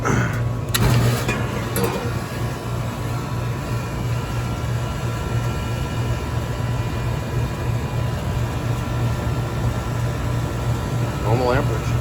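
A failing central air conditioner compressor, fitted with an added hard-start kit, runs with a steady low hum and drone under clicks near the start, heard close and continuous over several seconds.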